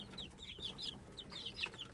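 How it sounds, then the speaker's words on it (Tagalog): A brood of chicks peeps in high, rapid chirps alongside clucking hens, a busy, close chorus of overlapping calls over steady background noise. "May mga sisiyo na naman tayo"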